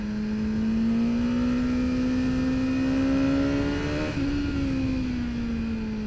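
BMW S1000R motorcycle engine held at high revs around 8000 rpm, a loud steady whine rising slowly in pitch with a brief dip and recovery near the end, close and continuous.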